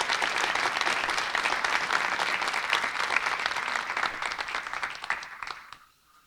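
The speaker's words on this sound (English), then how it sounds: "Let's give them another round of applause." An evening audience applauds a distinguished biology panel with sustained, even clapping that fades out abruptly near the end, leaving near silence.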